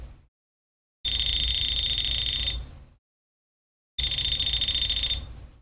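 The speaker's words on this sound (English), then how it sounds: "this is a non-contact outlet tester. And turn it on and hold it near a power source." A non-contact outlet tester held near a live power strip sounds two long, loud electronic alarm beeps, each lasting about a second and a half, separated by silence.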